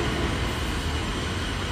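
A train at a railway station in Portugal rumbles steadily and loudly throughout, a dense continuous roar of rolling wheels and carriage noise with no voices.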